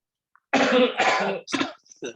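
A few harsh coughs and throat-clearing bursts close to the microphone, one long hack then shorter ones, with no talking.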